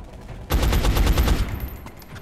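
A burst of rapid automatic gunfire from a turn-based tactics game set during alien UFO incursions over Germany, about eight close, loud shots in quick succession that cut off after a second and a half, with no talk.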